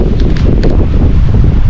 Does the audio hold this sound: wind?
yes